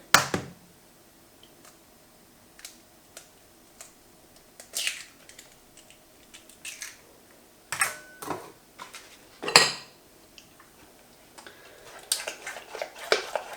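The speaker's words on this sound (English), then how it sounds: "So mix that final egg in" A spoon or whisk clinks and scrapes against a bowl while an egg is mixed into chocolate brownie batter, in irregular bursts of tapping and scraping with quiet gaps between, close and clear.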